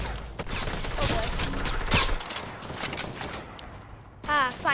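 Rapid video game gunfire from an assault rifle, with bursts of shots running through the first half under excited talk and game sounds, followed by a brief synthetic tone near the end.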